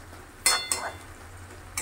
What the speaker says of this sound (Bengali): জলটা দিয়ে এখন ভালো করে সব কিছু মিশিয়ে আবারও 2-1 মিনিটের মতো জাল করে নেব